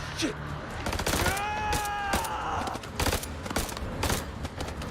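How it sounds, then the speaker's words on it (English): Gunfire in the video game House of Ashes, rapid sharp shots in bursts with a rising tonal sound, while voices talk over it. "Isn't the gunfire just going to attract them more?"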